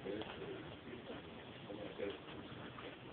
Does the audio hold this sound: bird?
yes